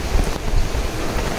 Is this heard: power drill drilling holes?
no